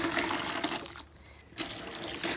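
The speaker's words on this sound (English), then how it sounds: "I just turn the cold tap on and I let that run for a bit." Cold water running from a tap into a bucket makes a steady close splashing rush, briefly dropping away before resuming at full strength.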